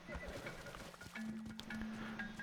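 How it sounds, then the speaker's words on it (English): Horse in the survival video game Atlas, heard as soft hoof clip-clops with faint animal noises and a low game tone in the background. "So my horse is looking pretty healthy now."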